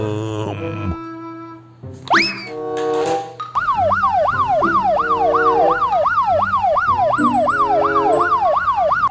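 Toy police car siren: a loud electronic wail that rapidly sweeps up and down, repeating steadily for several seconds after a brief musical jingle and a rising boing effect.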